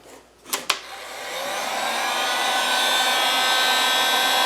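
A heat gun blows hot air while working on a Land Rover Defender dashboard heater, a steady loud whoosh that starts after a couple of clicks and keeps building.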